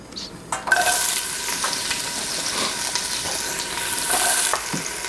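Onions frying in a pot over medium-high heat for an Afghan vegetarian barley soup, giving a steady close hiss and crackle with a few scrapes of stirring, no talking.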